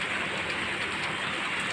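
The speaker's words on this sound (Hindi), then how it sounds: "ये देखिए बारिश" Steady rain falls outside a home, a constant dense hiss of drops heard alone and moderately loud without any break.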